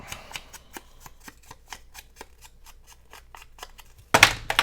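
Scissors snip through paper for scrapbooking in a steady series of crisp, close cuts, about a dozen evenly spaced, followed by a louder rustling scrape at the end.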